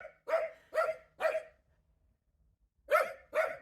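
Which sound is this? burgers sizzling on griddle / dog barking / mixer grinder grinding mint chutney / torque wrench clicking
dog barking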